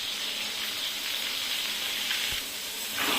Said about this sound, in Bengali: এবার ভালো করে ভেজে নিচ্ছি,